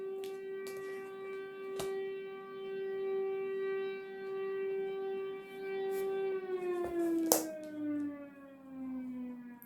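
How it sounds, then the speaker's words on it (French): A civil defense siren wails steadily for several seconds, then its pitch slowly drops as it winds down, with a few faint clicks over it. "Je suis désolée pour la sirène"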